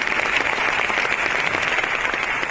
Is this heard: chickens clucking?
no